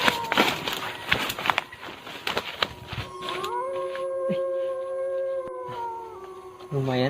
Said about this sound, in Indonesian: Kayak suara serigala berburu domba